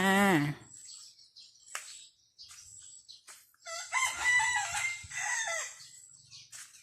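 A rooster crows nearby, with a long rising-and-falling call, followed by more crowing and clucking from fowl in the background.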